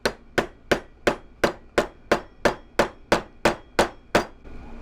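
A hammer striking a metal punch on annealed metal tubing while making spinner beads, twelve sharp, evenly spaced metallic taps with ringing clangs, loud and close, no voices.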